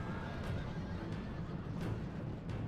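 Cavalry horses neigh in a Rome: Total War battle, faint whinnies repeating at intervals over a steady rumble of fighting and hoofbeats.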